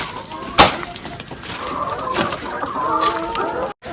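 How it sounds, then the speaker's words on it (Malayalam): Chicken clucking near a home, a sharp squawk early on followed by softer clucks and rustling, with a faint voice in the background. "കോഴിയെ കണ്ടോ?"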